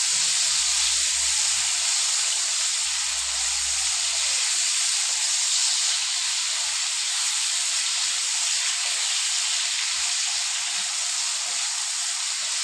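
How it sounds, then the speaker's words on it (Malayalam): Pieces of mango frying in hot oil for a long-keeping oil mango pickle give a steady, even hiss and sizzle that runs unbroken throughout, with a few low thumps early on. "ഇത് നല്ലോണം എണ്ണയിൽ വറുത്തെടുക്കാം"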